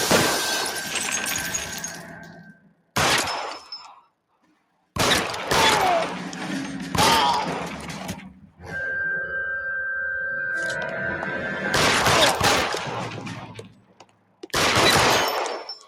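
Shotgun blasts in L.A. Noire, loud separate bursts spread over several seconds with abrupt silences between them, mixed with the crash and tinkle of shattering glass.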